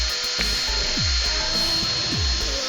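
An electric drill spins briefly while twisting wire for fused Clapton vape coils, two short whirring bursts that wind down in pitch, heard close over a steady background hiss.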